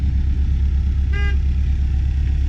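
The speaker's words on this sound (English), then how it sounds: "Horn works." A Peugeot 306 D Turbo gives one brief horn toot while its diesel engine idles with a steady low rumble underneath.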